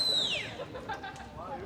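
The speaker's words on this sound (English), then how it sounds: "And you can hear the whistle there" A coach's whistle at a swimming pool during competition heats in Stellenbosch gives one sharp, shrill blast that slides downward and fades within half a second, over echoing poolside hall ambience.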